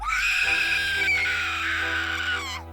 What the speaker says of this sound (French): Un hurlement effroyable vient cingler le silence.